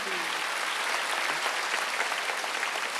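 A church congregation at a Wednesday worship service claps together in dense, steady applause that fills the room from start to finish, with no voice rising above it.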